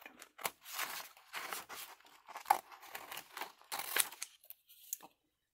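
Scissors snip out a piece of a 35mm photo slide image pressed onto paper for a junk journal charm, close up, a run of crisp cutting and crinkling bursts with short pauses between strokes, no talking.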